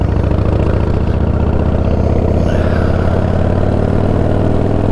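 A motorcycle engine idling steadily, loud and close, with a constant low throbbing rumble and no revving or voices throughout.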